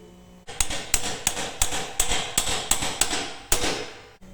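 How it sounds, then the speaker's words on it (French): A hammer-in anchor driven by hammer into a pre-drilled hole while fixing furring channels to a plasterboard partition: about nine sharp, close metallic strikes in a steady rhythm, each with a short ring, and no talking. "Tu la mets dans le trou comme ça. Et je viens frapper dessus."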